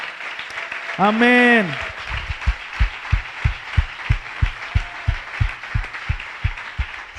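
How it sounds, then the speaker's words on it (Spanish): A church congregation claps in a steady unison rhythm, firm beats about three per second, following a brief sung or rising vocal phrase, with faint voices underneath. "Si ese aplauso es de gratitud, dáselo fuerte al Señor."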